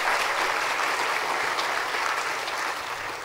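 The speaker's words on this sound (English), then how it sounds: "So I think we should give the executive a big clap." An audience applauding at an education research association gathering, a dense, steady wash of clapping from many hands that stays loud throughout and eases slightly toward the end.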